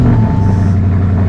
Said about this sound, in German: So, jetzt machen wir das Auto an.